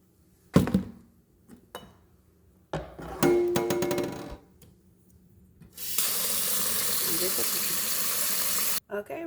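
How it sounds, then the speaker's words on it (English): Rice washed under a running kitchen faucet in a sink, with clinks and rattles of grains and a pot first, then a steady rushing stream of water lasting about three seconds before cutting off. "So let's wash this rice."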